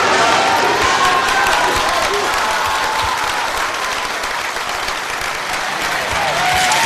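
Cabinet members and lawyers applaud López Obrador at the entrance of a government building: dense, loud, continuous clapping from a close group that holds steady for the whole stretch.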